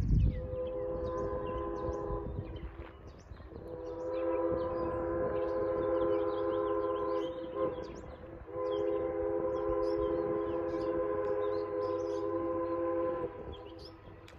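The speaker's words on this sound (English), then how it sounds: "You can hear that Pennsy whistle." A Pennsylvania Railroad style steam whistle on a Strasburg Rail Road train sounds in three long, loud chime blasts with short breaks between, ringing steadily over outdoor background noise with no one speaking.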